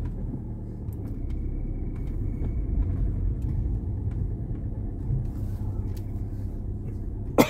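A car driving along a road toward town, with steady low engine and tyre rumble throughout and a brief sharp knock near the end.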